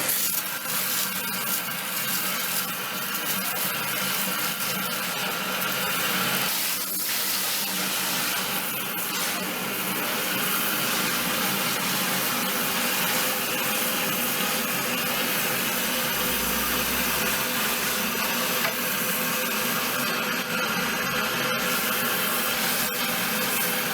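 Running water rinsing a client's hair during a natural hair wash, a steady broadband wash of flowing water lasting throughout, close and moderately loud with no talking.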